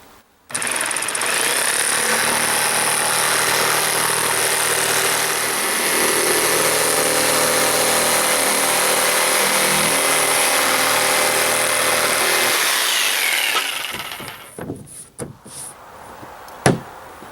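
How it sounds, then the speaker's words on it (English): A loud power tool cuts holes in tile board for a basement bathroom drain pipe, one continuous harsh grinding run that stops abruptly, followed by a few clattering knocks and handling sounds. "Now I'm going to cut my holes out here in this little jig for my drain pipe."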